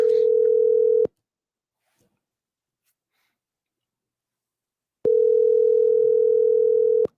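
Telephone dial tone heard while placing a call, a loud steady electronic hum lasting about a second, then four seconds of silence, then the same tone returning.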